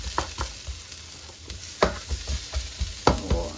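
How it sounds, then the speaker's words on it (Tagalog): Small pieces sautéing in a little oil for Filipino pork adobo, a quiet steady sizzle broken by scattered scraping stirs and light knocks of a spoon against the pan. "saute lang natin until mag-translucent. So, konting oil lang"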